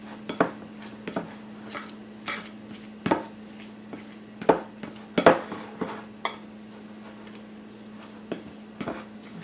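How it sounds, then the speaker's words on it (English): A spoon scrapes and knocks irregularly against a bowl while cheesecake crust and baking mix are stirred together, close and fairly loud, over a steady low hum. "just keep mixing this until I get it so that I can press it into that pan over there"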